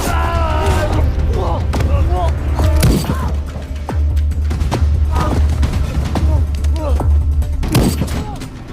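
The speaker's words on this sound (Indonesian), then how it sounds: "Whitman tanpa sengaja menembak tangki bahan bakar hingga mobil meledak" A film scene where a gunshot strikes a car's fuel tank and the car explodes: loud, dense bursts of booms, thuds and metallic clatter over a constant low rumble, with a narrator's voice over the action.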